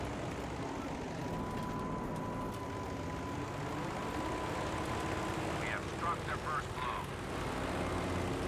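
Propeller engine of a Corsair F4U-1A fighter in Battlefield V drones steadily throughout, a continuous loud roar with brief bursts near the end, while a player talks over it.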